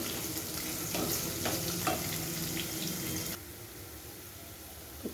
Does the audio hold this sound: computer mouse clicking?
no